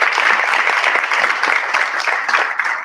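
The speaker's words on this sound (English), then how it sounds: "Let's give her a big round of applause again." Sustained applause from a crowd, dense and steady clapping throughout at a fairly loud level.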